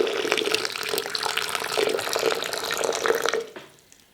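Very hot water is poured into a blender, a continuous splashing, trickling stream that lasts about three and a half seconds before it abruptly stops.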